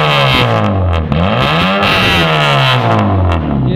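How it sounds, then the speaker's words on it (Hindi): A Honda Civic fitted with a straight pipe exhaust revs loudly and close by, its engine note rising and falling through several sweeping climbs and drops with a rough, raspy tone and no voices over it. "इसका जो इंजन का साउंड है वो भी आपको चेक करवाते हैं क्योंकि स्ट्रेट पाइप है"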